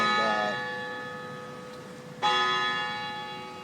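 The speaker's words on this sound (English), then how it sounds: "Friggin' church bells now." Church bells ring out on a town street, two distinct strikes each followed by a long ringing decay, fairly near and alone.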